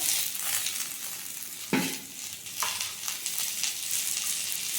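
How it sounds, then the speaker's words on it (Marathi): Two medium tomatoes go into onions and garlic being fried until pink, with a steady close sizzle, a sharp splash and crackle as they hit the pan, and a second smaller burst. "त्याच्यामध्ये टाकू आपण टमाटर"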